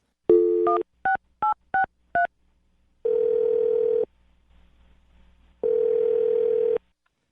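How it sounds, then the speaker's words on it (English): Telephone dialing tones: a short burst, then four quick evenly spaced beeps as a number is keyed in, followed by two long steady ringback tones separated by a pause, clear and close with no talking. "I'm going to dial her phone number right now and see if we can figure it out"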